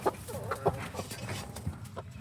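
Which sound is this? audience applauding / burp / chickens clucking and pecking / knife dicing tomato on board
chickens clucking and pecking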